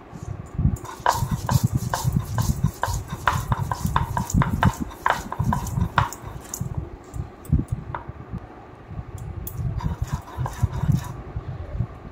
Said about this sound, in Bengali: এখন জল দিয়ে বেটে নেব, একদম মিহি করে বেটে নেব।